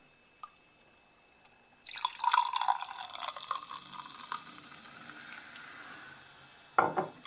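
Three Sixty vodka energy drink, 10% alcohol, fizzes after a faint opening click: a sudden, soft hiss of crackling bubbles that slowly fades, followed by a brief louder splash or pour near the end, close by with no talking.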